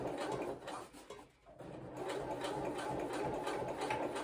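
Sewing machine stitching through a thick seam lump with a 130 weight needle while making Pietra shorts, a steady close mechanical whir with a brief slowdown and dip partway before it runs on again.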